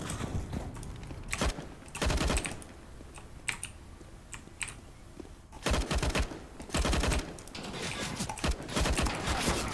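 Bursts of gunfire in the video game CS:GO, several loud clustered volleys and single shots spread across the stretch with brief gaps between them.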